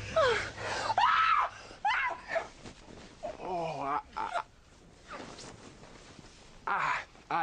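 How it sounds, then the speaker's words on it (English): Screams and gasping cries from a TV drama scene rise and fall in several bursts, with high, wavering shrieks and breathy gasps and pauses between them. "those were screams of pleasure"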